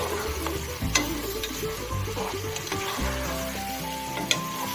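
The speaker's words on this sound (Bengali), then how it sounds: "এখন আমি আবার লাড়া দিমু" Meat for biryani frying in a pot gives a steady loud sizzle, with a clank and scrape of the spoon as it is stirred through the oil, mostly at the start and again near the end.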